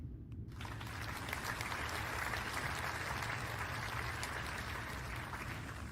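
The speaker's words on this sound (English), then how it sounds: "Let's welcome her with a big round of applause." A symposium audience applauds steadily, dense clapping holding at an even level throughout without anyone speaking.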